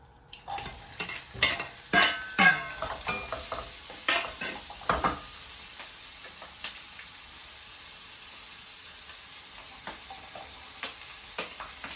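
Onion dropped into a hot pan and stir-fried as the base for a chicken tomato sauce: a bright, steady sizzle with sharp clacks and scrapes of the utensil against the pan, busiest early then settling.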